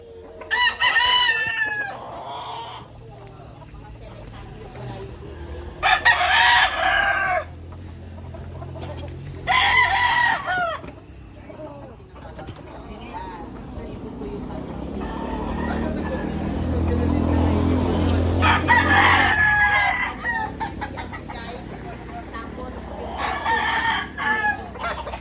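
Roosters crow loudly several times among clucking chickens, with a passing vehicle rumbling in the middle of the recording.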